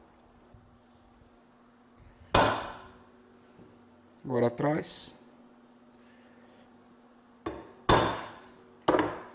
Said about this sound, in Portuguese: Agora já vou bater um punção. Punção é um metal duro aqui, uma ponta bem afiadinha.